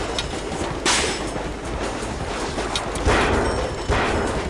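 Train from the Spider-Man 2 video game rumbling steadily, with loud bursts of clatter and whooshing breaking through the continuous rolling noise.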